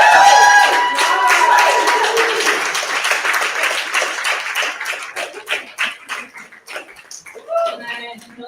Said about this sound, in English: have a round of applause for all the pieces so far